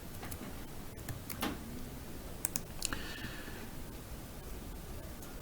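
Light, sparse clicks of typing on a computer keyboard, a handful of quick taps in small clusters, faint and close over a steady background hiss.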